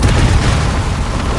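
Confringo fire spell blasting in the game Hogwarts Legacy: a dense, loud, continuous explosive roar with heavy low-end rumble throughout, no voices.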